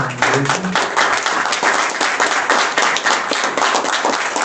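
An audience applauds to welcome a Colombian poet at a book presentation, a thick, even wash of clapping that holds steady throughout, with a brief voice at the very start.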